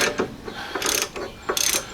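A ratchet loosens a ball joint press tool in close, loud clicking strokes, three quick bursts of rapid pawl clicks separated by brief pauses.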